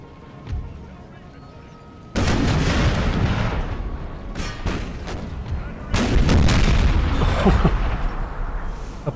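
Canister artillery fire booms across an Empire: Total War battlefield, two heavy volleys striking in quick succession with rolling crackle and rumble, loud and close, following a quieter lull.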